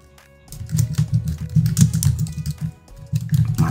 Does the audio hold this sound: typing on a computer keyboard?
yes